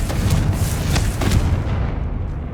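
Confringo fire spell explosion in Hogwarts Legacy, a burst of booming blasts with heavy low rumble, several impacts in quick succession at close range before fading.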